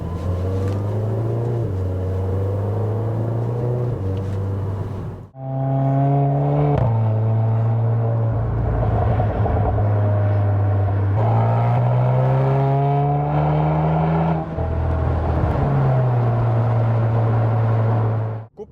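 Seat Leon Cupra 300 with a modified exhaust and reworked silencer system, its engine droning loud and close, revving up through rising gear pulls with brief drops between shifts, a steady strong exhaust note without talk.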